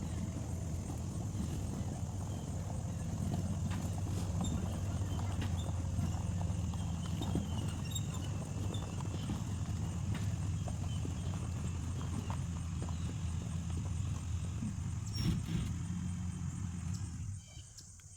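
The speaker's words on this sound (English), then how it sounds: "The machine I have with me is my Vermeer 1152." A Vermeer 1152 stump grinder, made in Pella, Iowa, runs at a tree stump removal site with a loud, steady engine drone close by. The roar continues unbroken and drops away just before the end.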